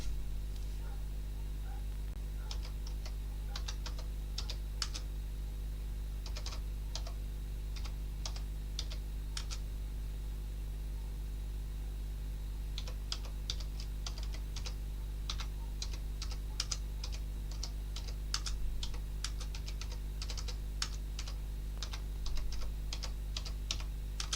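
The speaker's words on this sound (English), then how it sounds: "Here, I was typing all that stuff and it didn't even work." Typing on a computer keyboard, bursts of quick light clicks in clusters separated by pauses, close and fairly quiet over a steady low electrical hum.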